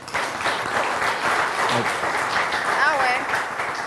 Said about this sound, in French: Vous applaudissez trop tôt.